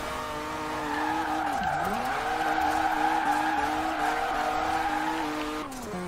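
Tires of an RX7 or Sentra Nismo drift build in Forza Horizon 4 squealing in a sustained skid while drifting uphill, engine whine beneath, the screech holding steady for several seconds before cutting off.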